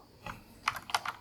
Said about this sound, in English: So let's enjoy the sounds of the typing now.